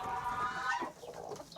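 Several hens cluck and squawk in a busy, overlapping chorus as they are let out of their coop, fairly close and steady, fading slightly toward the end.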